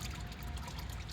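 Engine oil pours in a steady stream during an oil change on a truck, a continuous low liquid gush with no talk.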